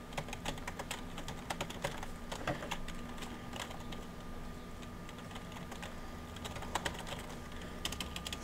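Steady typing on a computer keyboard, with rapid, irregular key clicks that run throughout at a quiet, close level, with no voices.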